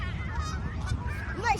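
Geese honking beside water during a bird feeding in Charlotte, North Carolina, a few calls rising over steady low outdoor rumble, with a sharper honk near the end and children and adults talking nearby.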